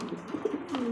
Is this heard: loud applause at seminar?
no